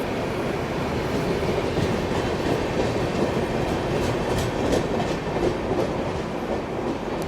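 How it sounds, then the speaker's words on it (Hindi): The Prayagraj Rambag–Howrah Vibhuti Express pulls out of Banaras railway station with a continuous rumble and rhythmic clickety-clack of wheels over rail joints, plus faint squeals. "बिल्कुल अपने निर्धारित समय पर यहाँ पर बनारस रेलवे स्टेशन से अपनी विभूति एक्सप्रेस निकल चुकी है"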